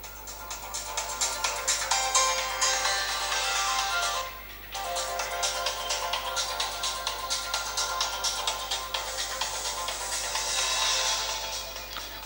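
A Microsoft Lumia 540 smartphone plays its ringtone through the loudspeaker, a steady repeating electronic melody with a brief pause near the middle, heard alone and moderately loud.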